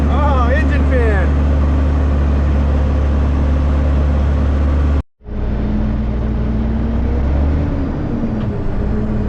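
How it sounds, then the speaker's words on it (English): A heavy-haul truck's engine fan roars steadily at close range, with a voice talking over it early on, a sudden brief dropout around the midpoint, then the deep drone resumes. "Oh, engine fan."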